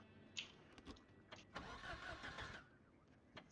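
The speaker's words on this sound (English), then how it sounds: "The car actually starts." A car in the Project Zomboid zombie-survival game cranks and starts, quiet bursts of starter clatter followed by a rougher catch of the engine, heard faintly with no talk.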